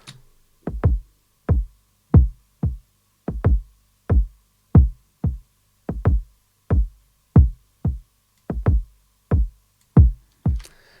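Stacked kick drum samples play in a steady loop, a sequence of about twenty punchy, deep thumps with sharp attacks and short decays, some falling in quick pairs, heard alone and clean with no voices.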